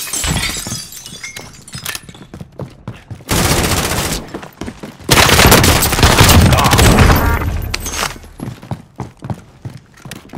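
Gunfire in Call of Duty: Modern Warfare, with scattered single shots, then loud sustained bursts of automatic fire and shattering impacts, fading back to intermittent shots.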